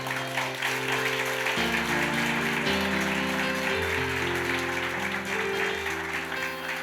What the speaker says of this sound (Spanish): Si le va a aplaudir, apláudale.